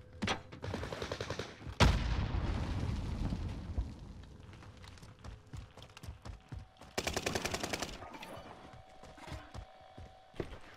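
Gunfire in the video game Warzone, with dense bursts of rapid shots and a loud crack near the start, then another sharp volley later, heard close over a busy game mix.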